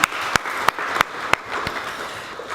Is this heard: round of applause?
yes